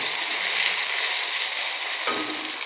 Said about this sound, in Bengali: পেঁয়াজ আর ক্যাপসিকাম একসঙ্গে ভাজছি